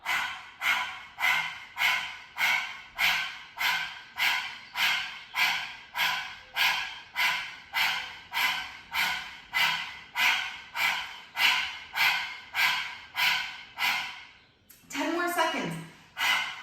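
People at a yoga class imitate a dog panting with tongues out, making fast rhythmic huffing breaths, about two per second, loud and close for over fourteen seconds, ending in a brief sigh-like exhale.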